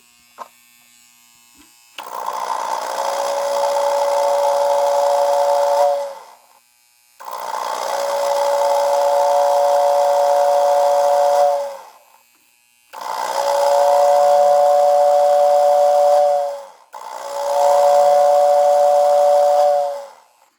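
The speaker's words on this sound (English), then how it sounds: "there's a lot of mechanical noise in addition to the whistle noise" A Lionel 2020 steam turbine toy train whistle sounds in four long blasts, a tonal hoot layered over loud buzzing mechanical noise, with short pauses between.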